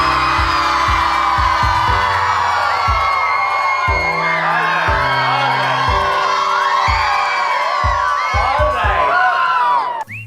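An audience shouting for Bollywood as their favourite: a loud crowd of voices whooping, yelling and cheering together over a steady pulsing beat, sustained for several seconds before cutting off.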